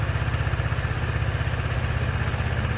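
Scooter engine idling steadily close by, a continuous low, even putter with a fast regular pulse and no other sounds.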